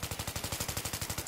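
Rapid machine gun fire in Battlefield 3, a steady, evenly spaced stream of about fifteen close, punchy shots with no talk over it.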